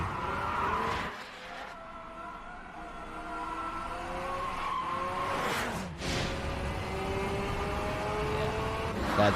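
A car in a racing game drifts with continuous tire squeal and revving engine, the screech rising and falling with slides, a steady loud game soundtrack throughout.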